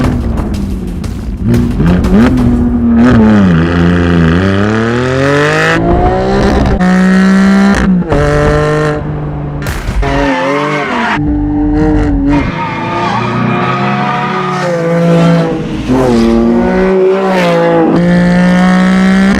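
Porsche 718 4.0 (GT4, Spyder or GTS) with an aftermarket exhaust, revving loudly and continuously, its flat-six pitch climbing and falling in repeated sweeps with brief gear-change breaks.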